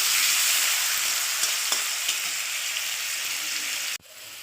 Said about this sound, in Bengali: এবার আমি দিয়ে দেবো কেটে রাখা আলুগুলো। আলুগুলো হালকা করে ভেজে নেব